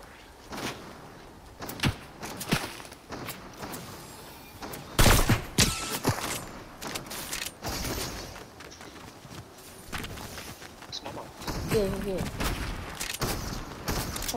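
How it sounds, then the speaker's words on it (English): Gunfire rings out in the Five Mins to Victory video game, sharp shots scattered across a busy stretch with a louder burst near the middle, mixed with other game noises and a voice talking. "Ooh, someone just shot me."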